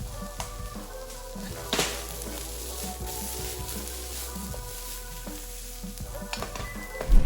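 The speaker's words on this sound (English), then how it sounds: "we're gonna stir fry these until they're no longer raw," Carrots, bell peppers, onions and celery stir frying in a hot pan for chop suey give a steady, close sizzle with clattering stirs and scrapes throughout, swelling louder near the end.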